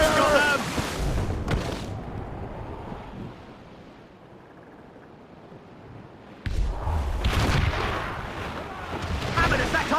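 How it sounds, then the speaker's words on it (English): A cannon volley from sailing ships in the video game Assassin's Creed Rogue: heavy booming blasts over steady wind and rolling surf, with shouted voices early and late and a quieter stretch in the middle. "They're firing a volley! They're long guns!"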